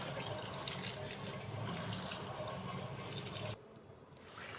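Jute leaves are washed under running tap water in a sink, a faint, steady splashing stream that drops to a quieter trickle near the end, with no talk.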